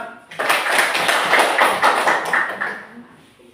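Classroom applause for a student discussion group, a dense burst of many hands clapping together that swells quickly, holds for a few seconds and then fades out.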